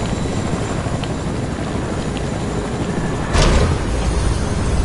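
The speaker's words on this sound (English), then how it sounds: "Or we're gonna land a helicopter right here." A helicopter lands in the Fortnite video game, its rotors droning steadily throughout, with a brief louder whoosh about two-thirds of the way in.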